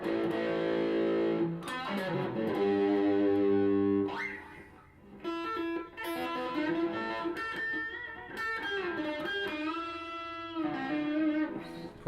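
A 2006 Nashville-made Gibson SG electric guitar played through heavy distortion, ringing sustained chords and single notes with a brief gap, close and loud with no talking.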